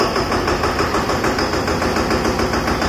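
Small Eicher 188 tractor with an 8+2 gearbox running close by, its engine a steady, rapid chugging putter with a faint high whine, continuous and loud throughout.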